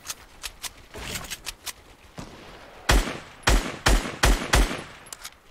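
Video game gunfire from several players with a new AK rifle: scattered shots at first, then a sequence of loud, close, evenly spaced bangs, with fainter pops in between.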